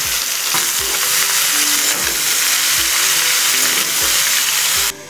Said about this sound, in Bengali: এর মধ্যে আমি সবজি সব অ্যাড করে দিলাম